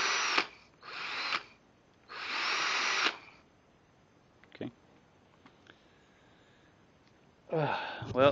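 An 18-volt cordless 1/2-inch variable speed hammer drill whirs in several short bursts of a few seconds each, separated by quiet pauses with a faint sniff, then spins up again at the end.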